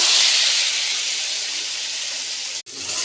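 Chopped ingredients go into hot oil for a tempering, producing a loud, steady hiss and sizzle that slowly eases. There is a brief sharp dropout just before the end.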